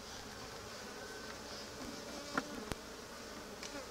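Honeybees buzzing around a hive during an inspection, a faint, continuous swarm drone with a couple of brief clicks, fairly distant and low in level.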